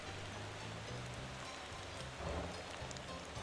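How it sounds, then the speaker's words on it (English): Rain falls in the Motor Town driving game, a faint, steady hiss of drops pattering under a low rumbling vehicle engine, with no voices. "the roads are very slippery when it's raining"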